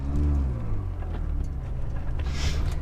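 A Ferrari 360 Spider with a gated manual shifter pulls out onto the road, its engine a loud, steady low rumble close by with a slight rise in pitch as it accelerates.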